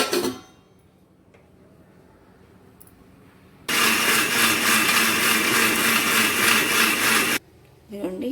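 A kitchen mixer grinder blends a paste for a mixed vegetable curry, starting abruptly into a loud, steady high-pitched whir that runs for about four seconds and then cuts off, with quieter room sound and clatter before and after.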